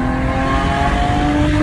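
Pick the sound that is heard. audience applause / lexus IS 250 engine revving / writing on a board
lexus IS 250 engine revving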